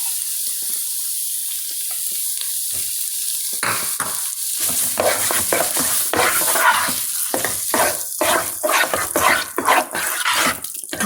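A spoon scrapes and stirs kalakand mixture of milk and condensed milk in a pan over medium heat, quiet at first, then rapid repeated scraping strokes that grow loud and rhythmic, with no voices.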